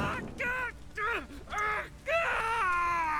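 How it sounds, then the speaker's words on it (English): Wailing, strained screams in The Witcher 3: Hearts of Stone, repeated in four drawn-out bursts with pauses between, each rising and bending in pitch, moderately loud over a quiet background. "My ears wither from the scream."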